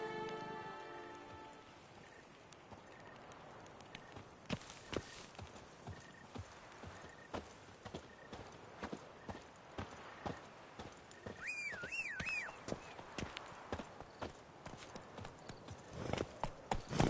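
Roach, a horse in The Witcher 3, walking with clear clip-clop hooves in a steady rhythm over soft rain, with a short whinny partway through; fairly close and moderately loud, with no talking.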